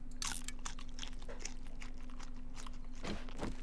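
Crunchy bites and chewing of a baked potato in 7 Days to Die, several crisp crunches scattered over a steady low hum, close and fairly quiet.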